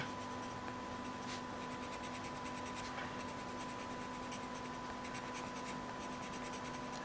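A coloured pencil drags yellow across paper in a continuous close scratching, steady and fairly quiet, with a faint constant hum underneath.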